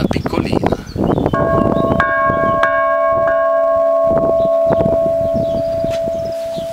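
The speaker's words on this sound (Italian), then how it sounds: "E la campana piccolina." A small church bell strikes repeatedly in a steady rhythm, its bright ringing tones sustaining and overlapping, close and loud with some background noise.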